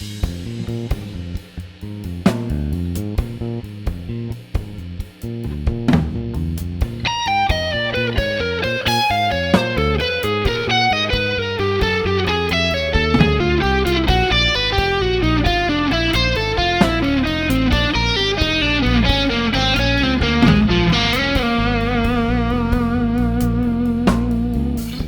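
A distorted electric guitar plays a slow fusion-style chromatic 'playing out' line over a groove at about 66 BPM. Fast, winding notes run continuously over steady backing, loud and without any voice.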